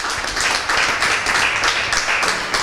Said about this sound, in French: Samni Noudi, qu'on va applaudir encore, mesdames et messieurs, cher public.